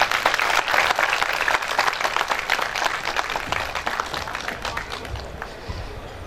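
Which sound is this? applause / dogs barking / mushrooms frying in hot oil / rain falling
applause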